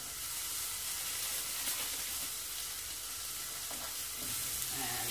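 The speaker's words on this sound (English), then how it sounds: "Fry them off nice and gently" Burgers, including wild boar burgers, sizzle steadily in a frying pan, a continuous close crackle and hiss with no talk.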